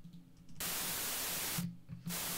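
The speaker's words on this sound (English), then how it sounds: "I'm just going to keep the white noise there" White noise riser in a techno track bursts in as a loud, bright hiss, cuts out briefly, then returns, with a low hum and tones underneath.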